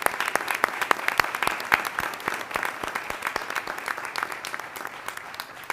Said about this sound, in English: So a big round of applause for all the recipients over here.